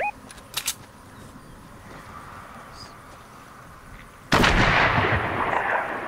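Gunfire rings out in the Fortnite video game, with a couple of sharp cracks early on and then a loud, heavy blast that erupts and rumbles on to the end.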